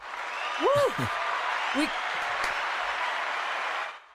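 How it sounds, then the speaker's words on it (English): A short burst of applause from a sound-effect button, a crowd-like clapping wash lasting a few seconds, with a man's whoop and brief talk over it. "let's find the applause button"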